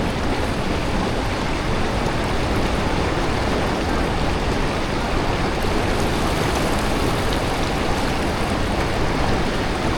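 A mountain waterfall in Yosemite roars in a steady, dense rush of falling water, loud and unbroken for the whole stretch, with no voices heard.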